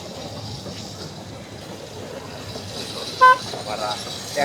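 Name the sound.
toy train for children tooting in park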